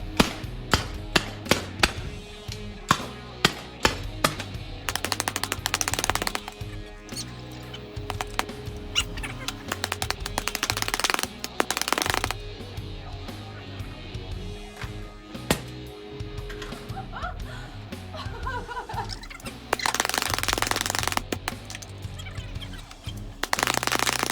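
MILSIG M79 and Neutrino SuperCORE blasters fired side by side, giving repeated sharp pops and mechanical clacks in irregular bursts with rattling bursts between, loud and close with no talk.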